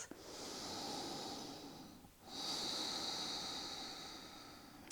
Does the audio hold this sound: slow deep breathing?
yes